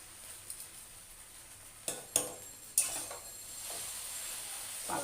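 Chow mein being stirred in a pan with salt, the utensil clinking and scraping against the metal in a few sharp knocks over a faint steady sizzle, close by with no talking.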